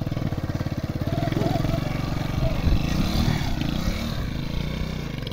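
A motorcycle engine runs close by with a steady, throbbing idle and rough clatter that swells slightly midway, continuous throughout.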